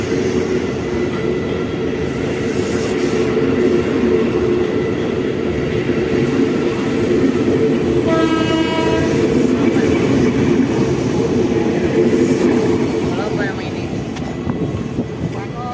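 An electric commuter train (KRL) departing for Jakarta Kota rumbles past continuously, with a steady roar of wheels on track and a brief whine partway through, loud and close.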